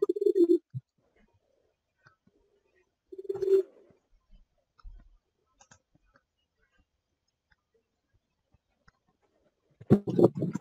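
Two short, low pigeon coos separated by a quiet pause, followed later by a brief rustling burst.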